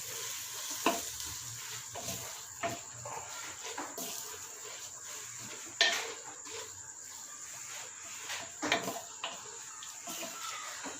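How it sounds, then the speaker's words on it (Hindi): Onions being stirred into keema in a clay pot, dhaba style, with a steady low sizzle and scattered scraping clicks of the spoon against the pot, heard close with no talk. "अब इसको हम जो है हिला लेते हैं। ये देखें मिक्स कर लेते हैं इसको।"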